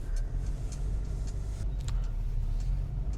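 A car cruising at night, its steady low engine and road rumble running continuously and fairly loud throughout, with faint ticks above and no talking.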